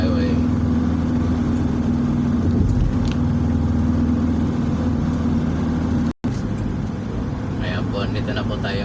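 Steady road traffic hum from cars on a busy highway near Alabang, a continuous mid-level engine rumble with a brief dropout, while a person talks over it.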